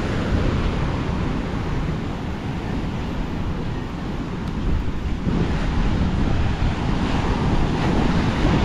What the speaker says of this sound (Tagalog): Palaki ng palaki ang alon.